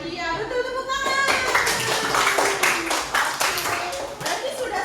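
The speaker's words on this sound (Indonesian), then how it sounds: "Nah, iya betul, tepuk tangan" Children in a classroom clap their hands together in a fast, steady burst of applause, with a voice and chatter mixed in at the start.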